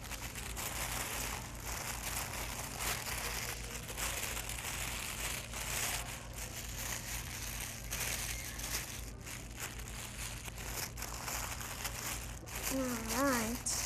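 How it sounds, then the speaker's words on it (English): Tissue paper crumpled and pressed onto glue for a craft project, giving a steady, close crinkling rustle that runs throughout with a faint background voice. "I'm going to use my tissue paper and place it right on top."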